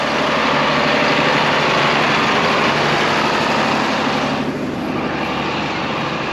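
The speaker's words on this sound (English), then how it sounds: "We're gonna get 2 tractors, 2 discs on it today." A tractor engine runs loud and steady for disking wheat ground, a continuous close diesel drone with a slight dip in tone near the end and no talk.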